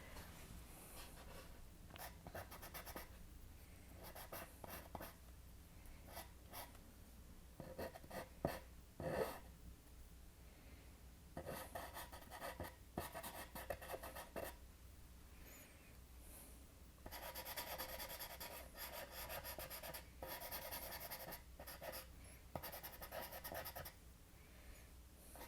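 A charcoal pencil scratches and rubs across paper while sketching raven feathers, faint and close, with soft strokes broken by bursts of denser, faster shading.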